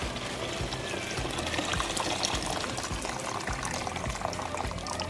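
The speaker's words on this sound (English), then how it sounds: "now it's time when I'm adding my water" About two liters of water pours steadily into a soup pot for Italian wedding soup, a continuous close splashing gush with no voices.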